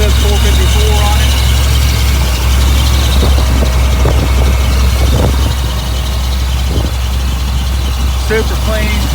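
1990 Chevrolet SS454 pickup with its original 7.4 V8 idling, a loud steady low rumble throughout with faint speech in the background.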